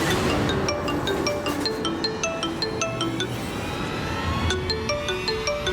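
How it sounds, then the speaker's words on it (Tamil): A mobile phone rings with an incoming call in an indoor domestic scene from a Tamil TV serial, a repeating melodic electronic ringtone of short chiming notes that sounds clearly and continuously under a low background hum. "அபிதான் கால் பண்றான்."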